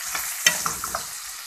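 Vegetables for pakbet being stirred as they fry in a pan, with a hissing sizzle and a few short scrapes and clinks, one sharper knock near the start, fairly close and with no talk.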